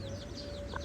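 Chickens of a small backyard flock, a hen with newly hatched chicks, cluck softly at a distance under a steady hum and outdoor background noise.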